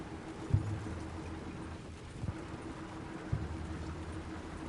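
A horse in Red Dead Redemption 2, with a few sparse, faint hoof clops spaced about a second apart over a low steady ambient rumble, no talking.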